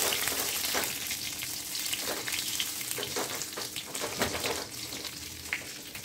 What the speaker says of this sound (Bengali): এখন আমি কালো জিরে ফোড়ন দিয়ে দিচ্ছি